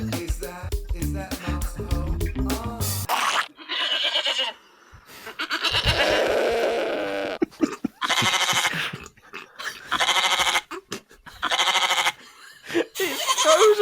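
Soundboard sheep bleats fired off in rapid bursts, first a quick stuttering volley, then longer wavering bleats repeated with short gaps, loud and close with brief talk between them.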